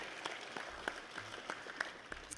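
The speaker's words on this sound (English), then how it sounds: "you may applaud him" At a high school senior awards night, a small audience gives a scholarship recipient scattered, sparse claps, a few distinct hand slaps spread over a couple of seconds, fairly quiet and distant.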